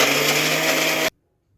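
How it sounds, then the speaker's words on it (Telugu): A mixer grinder grinding sesame seeds and jaggery whirs loudly and steadily, then cuts off abruptly into near silence. "నువ్వులు వేసి కొంచెం మిక్సీ పట్టుకున్న తర్వాత బెల్లం వేసుకోవాలి."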